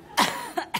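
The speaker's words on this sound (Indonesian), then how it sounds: "Batuk" A single short cough from a guest on an Indonesian TV talk show, sharp and close, followed by a small second catch of breath.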